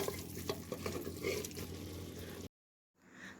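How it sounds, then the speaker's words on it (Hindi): Three cut medium-size tomatoes cook in a pan over a medium flame for a mutton curry, giving a steady close sizzle with stirring scrapes that stops abruptly, then returns faintly after a short silence. "तो हम टमाटोज़ को 1 to 2 मिनट्स तक मीडियम फ्लेम में कुक कर लेंगे।"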